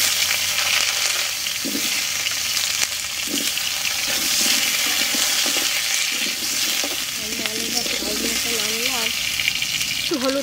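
Potatoes frying in hot oil for a Bengali cauliflower and katla fish curry give a steady, loud sizzle throughout, with stirring scrapes and clinks, no talking.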